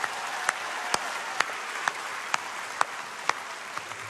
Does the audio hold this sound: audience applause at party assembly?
yes